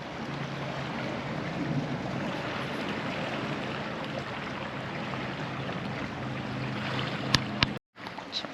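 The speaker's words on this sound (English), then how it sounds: "there's a boat going across" Off Palmanova on Mallorca, a boat crosses the water at a distance, its steady low drone blending with wind and surf until a couple of brief knocks and a sudden cutoff near the end.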